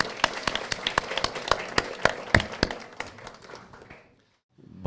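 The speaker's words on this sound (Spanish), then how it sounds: "Por favor, un aplauso a eso" An audience at a Spanish-language talk on fear claps in a fairly even rhythm of sharp, distinct hand claps that thin out and stop after about four seconds.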